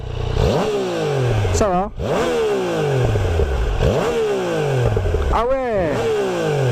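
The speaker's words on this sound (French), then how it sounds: "Le bruit de cette moto, comment il est?" A Yamaha Niken 900 motorcycle engine revs repeatedly and loudly up close, with sharp rising blips that fall back to idle, while people speak briefly.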